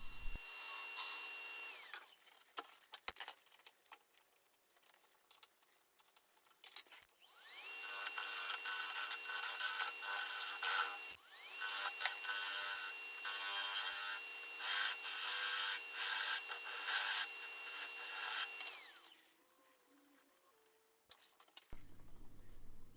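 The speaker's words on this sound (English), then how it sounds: "I'm going to just do a little bit of shear scraping with the negative rake scraper there toward the bottom" A negative rake scraper rasps against spinning maple in long sustained shear-scraping passes, a bright hissing scrape broken by short pauses, with a lathe humming beneath.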